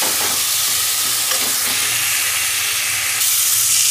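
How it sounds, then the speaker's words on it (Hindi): Chopped tomatoes sautéing in masala for a potato and carrot sabzi make a loud, dense, steady sizzle close up, with faint stirring scrapes now and then. "अब इसमें मैं टमाटर डाल दूंगी जो मैंने काट के रख रखा है। तो भी अच्छे से सौते कर लेंगे।"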